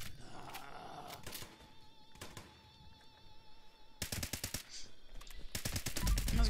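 Gunfire aimed at a scorched enemy in Fallout 76 on Xbox: scattered single shots at first, then dense rapid bursts of automatic fire that grow louder toward the end.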